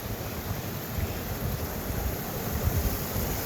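A small mountain torrent rushing steadily along a high trail in the Pyrenees, a continuous broadband wash of water with a low rumble, fairly close and even throughout.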